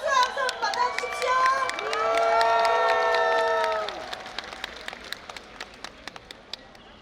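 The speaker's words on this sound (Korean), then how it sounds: "큰 박수와 함성 받아주십시오." A large crowd at an outdoor Democratic Party campaign launch rally in Gwanghwamun, Seoul, cheers and applauds; a sustained chorus of voices swells then fades, with scattered claps and sharp bursts continuing afterward.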